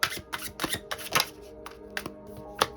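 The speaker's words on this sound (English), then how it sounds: "I'm shuffling the crap out of this deck" A tarot card deck shuffled vigorously by hand, close and fairly loud, with a run of rhythmic slaps and riffles of cards.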